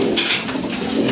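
Pigeons at a pigeon sale, including Giribaz and Gorra breeds, coo softly in short throaty bursts close by, with no one talking over them.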